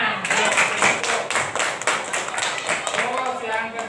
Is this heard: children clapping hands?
yes